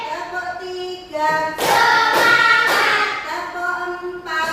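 A classroom of pupils claps hands together in short counted bursts. The claps ring out loud and dense over a sung, chanting voice, with a few separate rounds marking the count.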